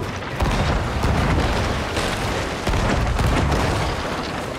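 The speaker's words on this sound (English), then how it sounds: "Left side cannons." Ship cannons firing in the Sea of Thieves video game, a dense run of loud booming blasts layered over continuous rumbling noise, with no talk.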